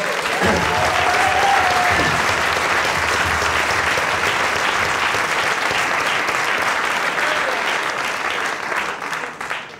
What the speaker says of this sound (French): Ah, vous avez applaudi